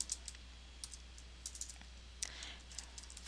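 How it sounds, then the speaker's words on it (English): Keys on a computer keyboard tap away as a data table is typed into Excel, with quiet, close, irregular clicks arriving in short bursts over a low steady hum. "So that's okay, I'm going to type it."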